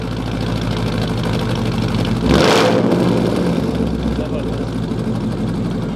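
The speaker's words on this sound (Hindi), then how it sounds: "सिर्फ स्टार्ट करेंगे और थंप देखना गाड़ी का कितना सॉलिड आएगा" A sports car fitted with a Borla aftermarket exhaust fires up with a sudden loud, deep burst that settles into a heavy, rumbling idle close by, under steady background noise.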